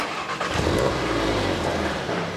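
Volkswagen MK7 Golf R turbocharged engine cranking and firing up, settling into a steady, loud idle rumble close by with no talking.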